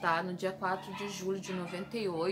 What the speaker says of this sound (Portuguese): o cachorro da vizinha tá latindo